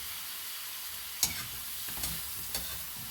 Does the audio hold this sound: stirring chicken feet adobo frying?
yes